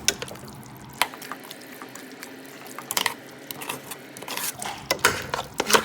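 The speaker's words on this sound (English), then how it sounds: "Make sure the bottom is scraped real good." Spoon scraping the bottom of a pot of seafood chowder after a sprinkle of seasoning, with intermittent scrapes and clinks over a soft wet stirring sound, close and moderately loud.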